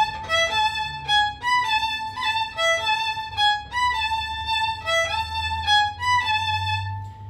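A violin plays the introduction of the chacarera La Vieja, a short phrase repeated in clear, separated bowed notes with harmonic richness, close and solo, with faint low background rumble.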